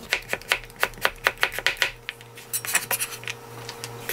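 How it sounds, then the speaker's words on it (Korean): Knife strikes on a cutting board while onion is sliced, a run of sharp, evenly spaced taps close by, slowing into scattered lighter clicks, with no talking. "양파를 조금만 썰어주겠습니다"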